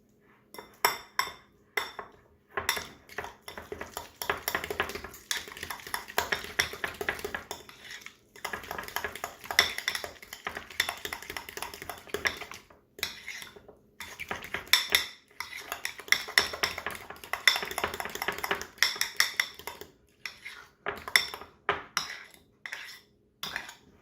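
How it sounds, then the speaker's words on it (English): A fork stirring a warm asparagus tart topping with black pepper in a dish, making repeated close metallic scrapes and clinks in brisk bursts with short pauses between, no talking. "I'm just going to use a fork to mix it together really quick"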